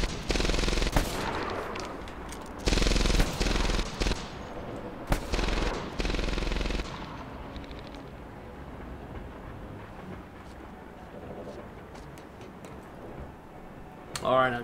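Machine gun fire in the World War II shooter Medal of Honor Airborne, loud sustained bursts in the first seven seconds, then quieter scattered shots and rumble, with a voice speaking over the battle.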